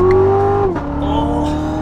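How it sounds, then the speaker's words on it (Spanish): A 650-horsepower Corvette Z06 accelerates hard with its tires slipping, a loud close engine tone climbing steadily, then dropping sharply as it shifts gear before rising again. "Ahí se me estaba resbalando un poquito las llantas"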